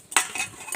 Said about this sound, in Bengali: নুন হলুদ মেখে রেখে দিচ্ছি কিছুক্ষণ।